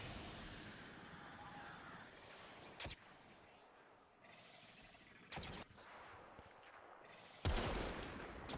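Gunfire in the video game Warframe, a few sharp, loud shots spaced several seconds apart over a low ambient game background.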